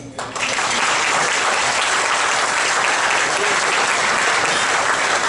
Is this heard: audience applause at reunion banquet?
yes